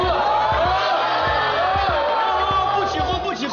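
A crowd of coworkers whoops, cheers and shouts playfully at a couple in an indoor setting, with overlapping voices and loud bursts close by.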